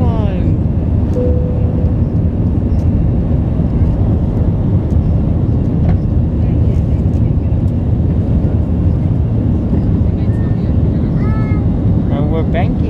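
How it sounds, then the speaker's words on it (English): A passenger airplane's engines roar steadily during a power climb just after takeoff, heard from inside the cabin as a constant loud drone with faint voices underneath. "We are airborne. We are on a power climb."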